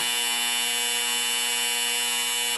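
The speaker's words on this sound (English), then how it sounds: "So they ring the buzzer." A loud, steady electronic buzzer at a sunfish scaling championship blares continuously with a harsh, droning tone, unbroken from start to finish.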